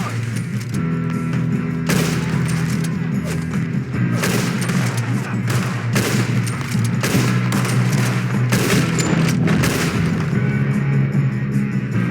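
Heavy gunfire in Red Dead Redemption 2 with many overlapping shots and rapid volleys, loud and continuous over a steady low rumble, likely from a moving train.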